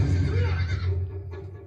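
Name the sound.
horse neighing in Game of Thrones episode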